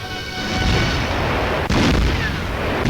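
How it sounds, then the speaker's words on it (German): Artillery fire against a Soviet village strongpoint in a 1944 German wartime newsreel, a dense loud rumble with one sharp blast standing out partway through. "Artillerie im Kampf gegen einen sowjetischen Dorfstützpunkt."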